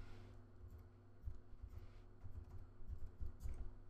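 Keys tapped on a Mac keyboard while a password is entered: quiet, irregular clicks in short bursts, close and soft, with no talking.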